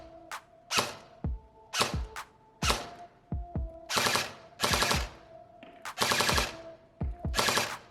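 An E&L ELAK12 airsoft AK replica firing BBs on full auto at an outdoor range: repeated short bursts of rapid mechanical clatter, about eight bursts separated by brief pauses, close and fairly loud.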